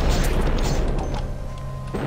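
Bombs explode in the video game Hero Siege, heavy booms and crashing bursts that pile up into a dense, loud barrage with no speech over them.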